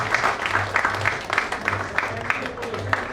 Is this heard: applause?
yes